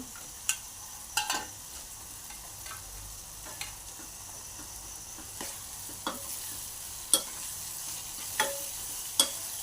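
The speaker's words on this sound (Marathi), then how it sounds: "छान असं हे तेल सुटेपर्यंत मसाला आपण भाजून घेऊया।" Chopped tomato and masala fry in oil with a soft steady sizzle, broken by sharp spoon clicks and scrapes against the pan every second or so, close by.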